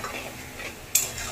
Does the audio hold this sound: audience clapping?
no